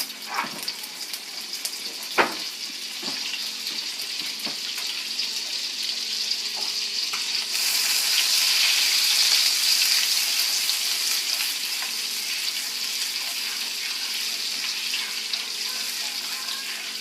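Butter and a little oil sizzle loudly in a hot pan while cooking chicken schnitzel and spaetzle, a steady frying hiss that swells and brightens midway with a few clicks of utensils, no talk.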